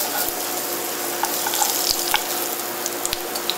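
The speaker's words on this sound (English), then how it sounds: "All you want to do is sear the outside of the tuna." Tuna sizzles steadily as it sears in a hot pan, with a close, even hiss and a few scattered pops and light clicks of the pan, no voices present.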